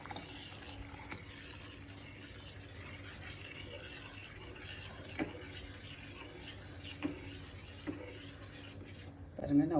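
Custard powder mix poured into milk and stirred in a pan, a faint, soft liquid swirl with light scraping ticks over a low background hum, ending in a brief louder clatter.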